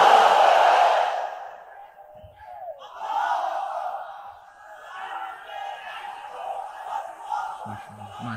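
A large crowd at a Bangla Islamic sermon gathering roars the takbir, Allahu Akbar, in one loud collective shout at the start, then the sound fades into lingering, murmuring crowd voices.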